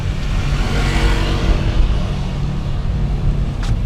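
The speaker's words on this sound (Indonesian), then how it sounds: "Suara-suara motor ya." Low engine rumble and road noise heard from inside a Hyundai Stargazer X cabin, with motorcycles droning past outside, muffled and steady.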